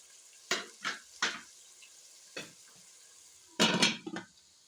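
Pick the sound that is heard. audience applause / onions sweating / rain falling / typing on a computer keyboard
onions sweating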